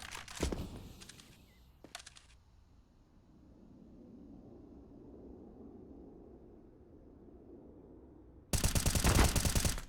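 Gunfire in a Counter-Strike match on the Overpass map: a short burst of shots at the start and a couple more around two seconds, then quiet ambience before a loud, sustained automatic rifle volley at the end.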